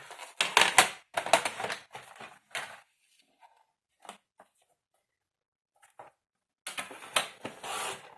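Material for a series of advent calendars being cut by hand: close, scratchy, rasping cutting strokes come in rapid bursts, then stop for a few seconds with only a few faint ticks, then resume loudly.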